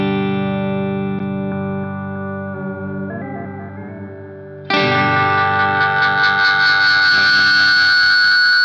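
Electric guitar run through a JAM Pedals Pink Flow analog delay, sustained chords ringing with echoing repeats, then a sudden louder, brighter swell of dense warbling delay trails that keeps building.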